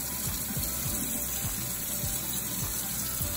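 Tap water runs steadily into a sink while a glass-etching brush is rinsed under it, a close continuous splashing stream with small gurgles, no talking.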